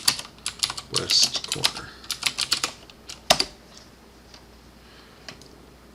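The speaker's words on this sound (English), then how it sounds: "I'm going to hit F2 to rename it, and then type view from" Quick bursts of clicking keys come from a computer keyboard while renaming a view in Revit, loud and close in irregular runs that thin out toward the end. A voice speaks briefly over them.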